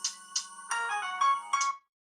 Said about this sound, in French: il est important que le volume soit au maximum et que la sonnerie que vous avez sélectionnée ait bien du son